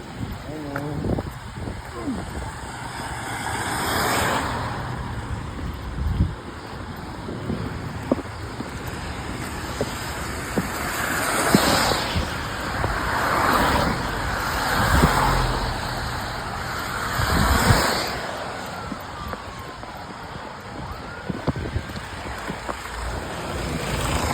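Road traffic passing near a shore: a steady broadband roar from cars swells and fades as vehicles go by, mixed with wind buffeting the microphone across roughly twenty-four seconds.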